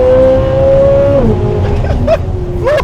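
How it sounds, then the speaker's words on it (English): A Corvette C8 Z06 sports car roars loudly up close, then drops pitch as it downshifts, followed by sharp blips and pops from the exhaust near the end. "It's my favorite part when you get to this, like listening to the downshift."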